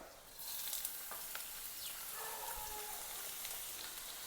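A handful of garlic frying in oil in a pan for fish noodles gives a soft, steady sizzle with light crackles and spattering pops, fairly faint and with no one talking.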